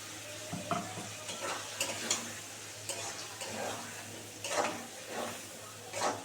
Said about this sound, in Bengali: একটু ভালো করে কষাবো, কষিয়ে তারপরে অল্প করে জল দিয়ে দেবো